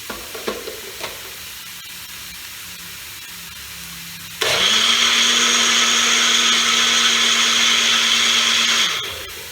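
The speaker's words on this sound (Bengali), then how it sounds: "মিক্সিতে এই দইটা আবার দিয়ে দিলাম, যাতে যে মশলাটা আমার ছিল সেটা যাতে একেবারে মিশে যায়।" A kitchen mixer grinder whirs loudly and steadily for about four seconds, blending yogurt with spices in a small spice jar, then winds down; faint clinks precede it.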